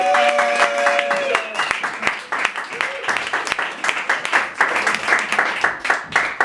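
A lively audience claps and cheers as a comedian is welcomed onto a stage, steady dense applause lasting throughout, with a host's voice briefly over the start.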